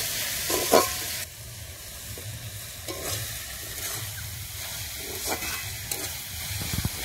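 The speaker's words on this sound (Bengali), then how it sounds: "পেঁয়াজটা বাদামি করে ভেজে নেবো" Onions sizzle softly in oil, a steady low crackle broken by a few scraping stirs of a spoon.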